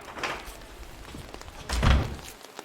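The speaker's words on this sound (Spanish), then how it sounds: "abre la puerta" Door being opened: soft handling noises followed by a heavier thunk of the door near the end, fairly close and moderately quiet, with no speech.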